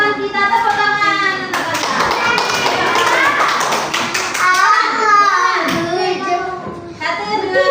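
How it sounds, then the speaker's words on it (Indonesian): Children clap their hands in a classroom amid lively young voices talking and chanting, the claps forming quick bursts woven through the chatter. "Ayo, kita dengarkan teman kita, tepuk tangan."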